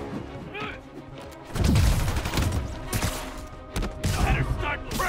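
Gunfire and crashing impacts in a Spider-Man video game, loud bursts coming in waves with a voice shouting in between.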